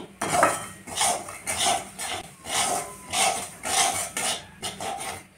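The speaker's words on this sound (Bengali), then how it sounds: "সুজিটাকে 1 চামচ ঘি দিয়ে লাল করে ভেজে নিলাম।" Semolina roasting in ghee in a pan, stirred with a utensil in a steady series of scraping, clinking strokes, close and fairly loud, with no voices.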